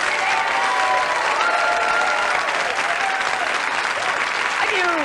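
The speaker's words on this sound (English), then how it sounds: "Give them a big round of applause." A television studio audience breaks into sustained, loud applause, a thick continuous roar of clapping with a few voices and whoops rising briefly above it.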